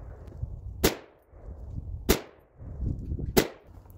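A 7.62x39 rifle firing Igman brass-cased ammunition at a 25-yard target lets off three sharp, loud shots evenly spaced about a second apart, each cracking hard and decaying quickly over quiet outdoor background.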